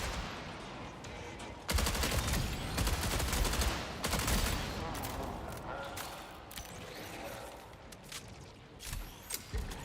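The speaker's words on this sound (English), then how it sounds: "We got some bots probably about to start firing me up." Robot enemies open fire in a video game, with bursts of rapid gunshots and fusillades cutting in around two and four seconds, loud and close, over a busy layer of game sounds.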